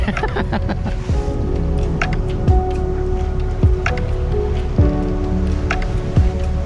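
A sailboat surfs down big Atlantic seas on a passage from Jamaica to Panama, with steady loud rushing water and wind noise and several sharp thumps and splashes as the hull runs down the waves.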